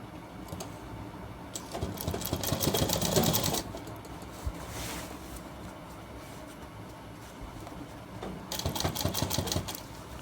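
A sewing machine stitches a shirt collar in two short rapid bursts of rattling clatter, close and fairly quiet, separated by a pause of faint handling sounds.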